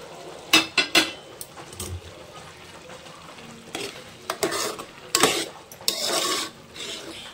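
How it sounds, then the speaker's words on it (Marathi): A spoon stirs a traditional peanut sweet dish in a cooking pot, scraping and clinking against the metal in irregular bursts with brief sizzling, close and fairly loud, with no talk. "ह्या असं ना मध्ये मध्ये ढवळून बघायचं हा, नाही तर लागू शकता खाली"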